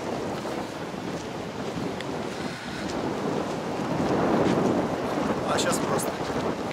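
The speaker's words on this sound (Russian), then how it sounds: "А сейчас просто ветер" Wind blows hard at a seaside hotel in Marsa Alam, Egypt, a continuous rushing roar that buffets the microphone and swells toward the end, with a faint surf-like wash beneath.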